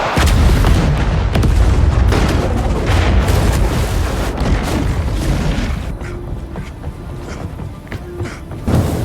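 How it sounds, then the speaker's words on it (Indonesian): A large grenade explosion: a heavy, rumbling blast roars loud and sustained, booming low with crackling debris, then gradually fades into a dull rumble. "hingga terjadi ledakan besar"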